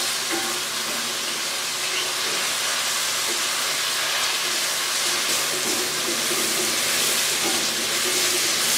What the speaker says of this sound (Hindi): अभी मैंने इनको और फ्राई करना है